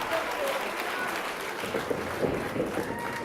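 Wrestling crowd cheering at a Defiance show in Washington Hall during a title-versus-title match, a steady loud roar of voices and noise throughout with no clear pauses.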